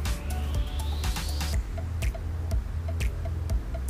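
A spoon mixes thick moong dal appe batter made from sprouted moong after a little water is added, giving close, steady wet squishing strokes with light clicks against the bowl, no voices.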